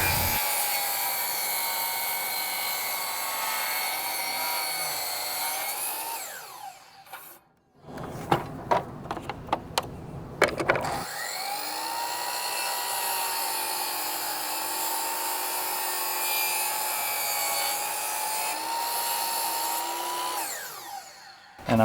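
A power saw cuts a 45-degree angle on baseboard moulding, a loud steady whine that runs for several seconds, breaks into a short stretch of knocks and clatter, then resumes whining for a long stretch.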